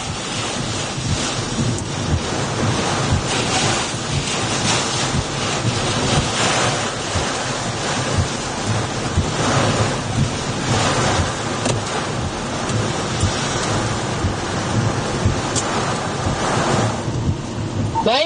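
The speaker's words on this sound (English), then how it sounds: "Here's some wind." Strong wind roars continuously and loudly across the microphone during a tornado storm in South Dakota, a dense, gusting rush that never lets up.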